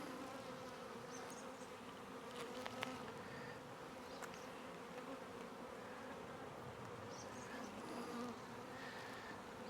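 A honey bee swarm buzzes over hive frames in a dense, continuous drone, close and fairly soft, with a few brief sharper wingbeat passes rising above the hum.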